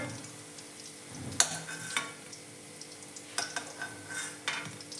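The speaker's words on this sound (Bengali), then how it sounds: "এই পাশের পাকোড়াগুলো আমার হাফ ভাজা হয়ে গেছে এবার আমি এগুলো তুলে রাখবো" Steady sizzle of chicken pakoras frying in hot oil, with a few sharp clinks of a utensil against the pan.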